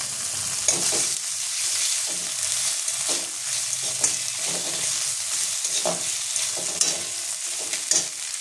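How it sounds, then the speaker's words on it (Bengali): Onion frying and being stirred in a pan with ginger paste, crushed garlic and green chili paste, a steady hiss of oil punctuated by repeated scraping strokes of a spatula, close and continuous. "দেখো পেঁয়াজটা আমার হালকা ভাজা হয়ে গেছে।"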